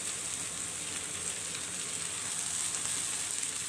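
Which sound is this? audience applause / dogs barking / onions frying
onions frying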